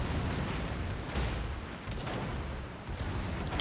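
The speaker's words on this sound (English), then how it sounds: "Bismarck is shooting at me" Bismarck battleship's main guns firing in World of Warships, a dense rumbling barrage of heavy booms that rolls continuously without pause, loud and close throughout.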